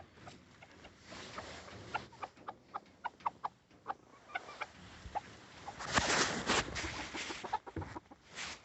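Chickens are fed freshly collected grass, giving a string of close, sharp clucks in an irregular rhythm, followed by rustling and scratching as they peck and forage.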